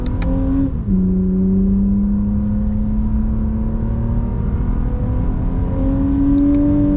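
A Toyota Camry XSE V6 engine hums under load as the driver paddle-shifts, its tone dropping sharply at one gear change early on, then climbing steadily in a smooth, close, continuous drone.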